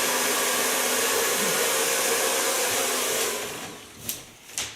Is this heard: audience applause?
no